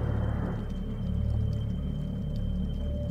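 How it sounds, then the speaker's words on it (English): Whale vocalizations picked up by an underwater recorder, faint drawn-out calls sitting inside a loud, steady rumble of water noise. "It also records whale vocalizations and all the sounds in the water,"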